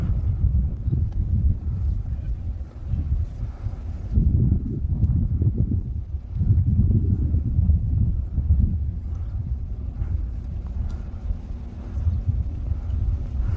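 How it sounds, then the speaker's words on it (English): Gusty wind buffets an outdoor microphone in a steady low roar that swells in strong bursts, close and loud throughout with no voices. "It is a little windy here."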